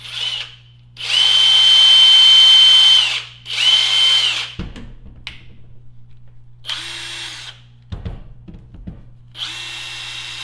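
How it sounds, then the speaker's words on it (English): A Snap-on cordless brushless impact wrench whirs up with a high motor whine for a couple of seconds, stops, runs again briefly, then clunks and rattles follow. "Listen at that brushless motor, guys."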